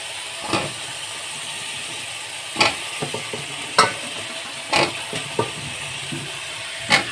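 Spices and cauliflower sauté in a pan over a steady sizzle, with a handful of distinct spatula scrapes and knocks spaced a second or so apart.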